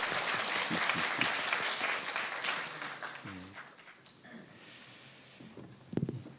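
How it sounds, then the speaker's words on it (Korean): Audience applause at a Catholic university's installation Mass for a new president, a dense steady clapping that gradually thins and fades, with a brief burst of noise near the end. "박수 부탁드립니다."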